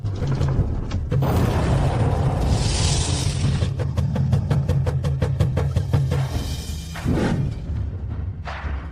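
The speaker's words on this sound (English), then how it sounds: "How does her inn have an anti-aircraft weapon system?" An anti-aircraft weapon system at an inn fires a rapid run of sharp shots over a heavy low mechanical rumble, with thuds and booms around the burst.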